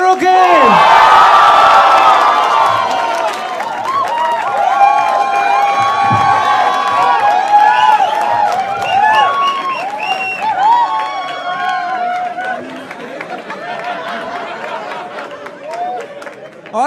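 A large talent-show audience cheering, whooping and clapping for a panel of guests, loud and sustained throughout with shouts rising over the applause and crowd chatter beneath.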